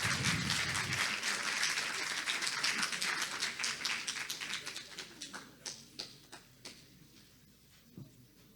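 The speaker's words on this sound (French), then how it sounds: "je vous demande de l'applaudir bien fort" Audience applause for a finalist at an academic final in Montpellier, loud and dense at first, then thinning into scattered individual claps that fade out.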